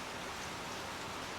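Steady rain falls in a dense, even patter, a continuous close wash of drops with no talk.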